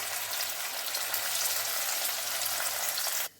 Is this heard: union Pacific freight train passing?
no